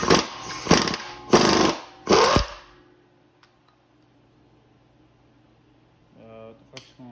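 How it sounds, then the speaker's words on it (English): An impact wrench tightens a bolt on a Chevy small block engine during a rebuild in four loud, close bursts, followed by quiet and a brief metallic rattle near the end. "It's getting really hard to turn now, so I'm gonna impact it on."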